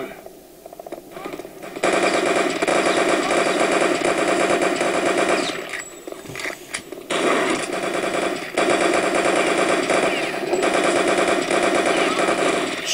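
MP40 submachine gun firing in the shooter game Return to Castle Wolfenstein, heard as long, sustained bursts of rapid automatic fire with short breaks between them.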